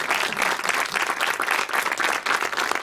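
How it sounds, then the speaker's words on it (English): An audience at a cultural event applauds in a steady, dense burst of clapping that holds at an even level throughout. "great applause"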